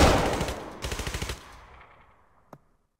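Ceremonial rifle volley fired at a memorial: a loud crack of simultaneous shots with a burst of rapid follow-up reports, then a single distant-sounding shot after a pause, with no talking.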